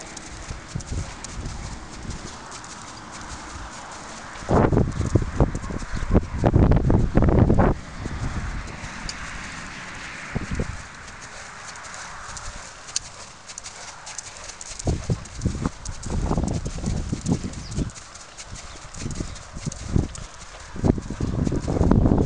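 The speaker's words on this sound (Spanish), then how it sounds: "Bien, galope." A horse galloping around an arena during a riding clinic, with rhythmic hoofbeats coming in heavy bursts that swell and fade as it passes, over steady wind noise on the microphone.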